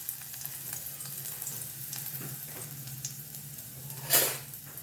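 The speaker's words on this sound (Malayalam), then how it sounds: "ഇതിലേക്ക് ഇത് വെളുത്തുള്ളിയാണ്, ഗാർണിക് വെളുത്തുള്ളി ഇട്ട് കൊടുക്കാം." Chopped garlic goes into hot oil in a pan for an oats and vegetable soup, making a quiet, steady sizzle close by with a brief louder hiss and clatter near the end.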